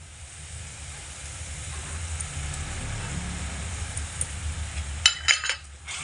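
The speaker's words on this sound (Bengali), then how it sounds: "সবকিছু ভালো করে একসঙ্গে কষিয়ে নেব" Spiced vegetables with water fry in a pan, a low steady simmering hiss, then a few sharp metallic scrapes and clinks of a spoon stirring against the pan near the end.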